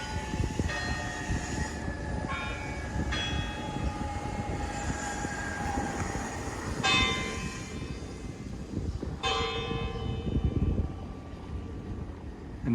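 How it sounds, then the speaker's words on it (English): Church bells of the basilica in Charlottetown, Prince Edward Island, ring outdoors in several separate strikes, each tone hanging and fading over constant street noise. "those were the bells of the basilica that we were just in"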